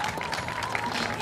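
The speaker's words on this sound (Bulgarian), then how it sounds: "там очаква аплодисментите ви Методи Карабойчев" Spectators at a Class Street Diesel rally podium applaud the second-place driver of a red Lupo, a brief, even burst of dense clapping mixed with crowd murmur.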